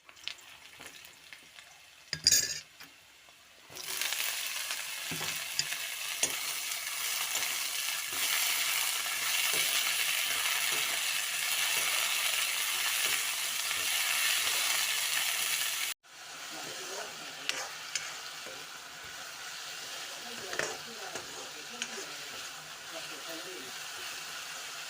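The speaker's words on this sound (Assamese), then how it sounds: "এতিয়া ঢেকীয়া ভাজিম" Dhekia fern greens fry in a hot pan with a loud, steady sizzle and stirring scrapes. A short clatter comes first, then about twelve seconds of hissing, a brief break, and the sizzle starts again.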